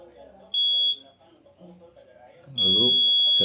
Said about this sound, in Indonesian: pada tanah yang kering, buzzer akan menyala